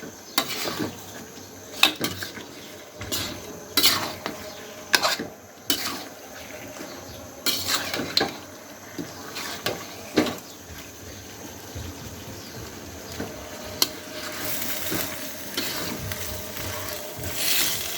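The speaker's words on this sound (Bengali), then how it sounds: "এই মাংসটা এখন আমি দিয়ে দিলাম আর এখন ভালো করে নেড়ে চেড়ে মশলার সাথে মিশিয়ে নিতে হবে" Duck meat being stirred and turned through spices in a pan, with repeated scraping and clattering of a utensil against the pan in irregular bursts. A steady background hiss runs underneath, and no one speaks.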